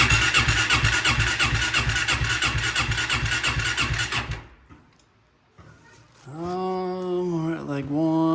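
A Kawasaki Z400 motorcycle cranks with a rapid, rhythmic starter chatter, falls quiet, then catches and runs, its engine rising in pitch as the throttle opens.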